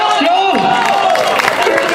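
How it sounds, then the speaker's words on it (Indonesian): An outdoor orchestra-stage audience claps and cheers for a parking attendant, a steady wash of crowd applause running under a loud amplified voice speaking over it. "Lupa juga tepuk tangannya buat tukang parkir"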